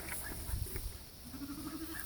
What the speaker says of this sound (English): I'm cleaning our sheep.